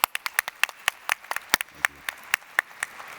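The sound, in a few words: audience clapping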